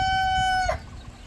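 A big rooster on a homestead crows once, loud and close, a clear harmonic call that breaks off partway through, followed by quieter farmyard background.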